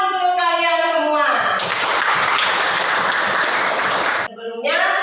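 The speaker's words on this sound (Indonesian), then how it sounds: "Beri tepuk tangan untuk kalian semua." Classroom applause bursts out loudly after a teacher's voice, a dense wash of clapping for a few seconds before the teacher resumes talking.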